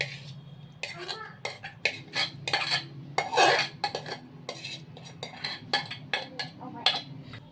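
A spoon stirs Christmas cake batter with dried fruit and tutti-frutti in a bowl, giving a run of quick scraping clinks against the bowl's sides at an uneven rhythm, close and clear over a low hum.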